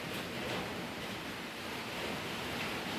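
A rain and wind storm outside in Laos makes a steady, broadband rushing wash that stays fairly faint and constant, with no voices.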